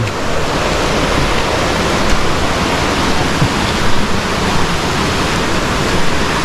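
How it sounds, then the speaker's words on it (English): A Jamaican river pours steeply down like a waterfall, upstream of the Blue Hole, producing a loud, steady broadband roar of rushing water close by that continues unbroken throughout. "The river come right down."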